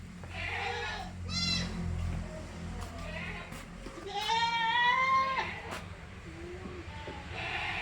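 A goat for sale at a livestock farm bleats in several wavering calls, a short cry early and a louder, drawn-out one midway, over steady background noise with some faint voices nearby.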